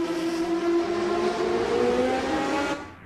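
Historic 1966-1975 Formula 1 race cars at Monaco, their engines howling loudly and continuously with rising and falling pitch as cars pass, then fading abruptly near the end.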